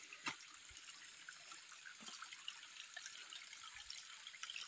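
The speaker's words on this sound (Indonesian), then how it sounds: "di sini saya melewati aliran sungai kecil nih" A small forest stream on an Indonesian jungle hike trickles and gurgles quietly and continuously, with a few soft splashy bursts over the faint flow.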